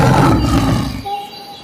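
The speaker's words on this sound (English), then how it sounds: "Lion." A lion's roar, loud and close, rumbling as one broad burst for about a second before fading into a quieter tail.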